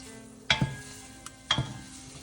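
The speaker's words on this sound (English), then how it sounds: "we're going to go ahead and add the chopped onion and celery. We're going to go ahead and give it a stir" Chopped onion and celery cook in melted butter in a pot, a faint steady sizzle with two distinct spoon scrapes and clinks as the vegetables are stirred.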